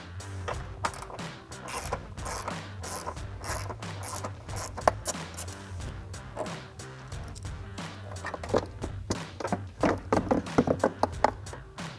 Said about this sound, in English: grab your ratchet, small extension, and your 10 millimeter socket